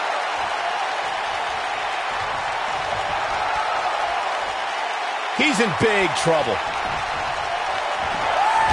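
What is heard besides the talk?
wrestling arena crowd cheering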